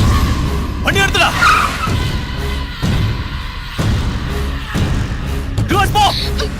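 A car pulls away with short bursts of skidding tires and engine noise. Heavy thumps and voices break in between, all loud and close, in a busy action scene.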